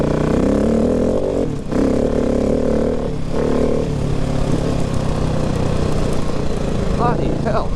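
A 2019 KTM 690 Enduro R single-cylinder motorcycle ridden on the highway, its engine droning loud and close with rising and falling revs, plus wind rush and brief gear-change dips, and a rider speaking over it.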